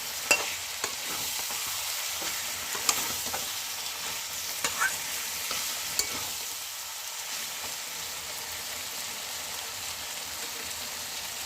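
Chicken being stirred with spices in a hot pan, a steady close sizzle with scraping and stirring clatter throughout, occasional sharper clicks of the spoon, no voices.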